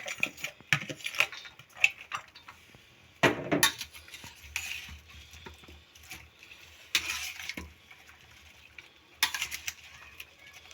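Spices being mixed by hand into raw cauliflower and peas in a bowl, heard as soft scraping and clinking bursts that come and go in irregular stretches, fairly close and quiet, with no talking.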